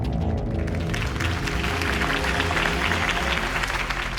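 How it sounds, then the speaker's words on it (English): Crowd applause at a political campaign rally in Batman: The Telltale Series, a sustained burst of clapping and cheering over low background music, fairly loud and constant. "If only Mr. Wayne, my campaign's largest backer, could have heard that applause"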